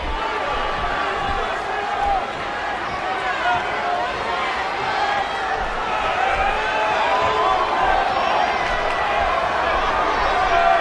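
A large video game wrestling arena crowd roars continuously, a dense wash of cheering and voices that swells slightly toward the end.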